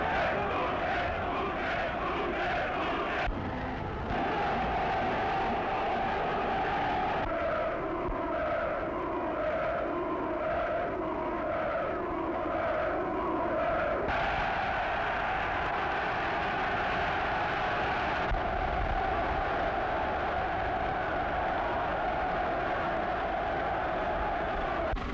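A large crowd in northern Italy awaits Mussolini, its dense, steady roar and chanting filling the whole stretch at a distance, with no pauses and no clear single voices.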